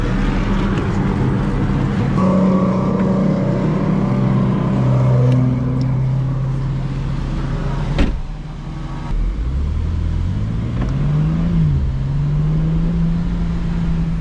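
A bone-stock BMW G87 M2 laps the VIR race track, its engine loud and droning, with a brief drop in pitch around an upshift or lift before it climbs again under hard acceleration. Wind noise runs underneath and no one speaks.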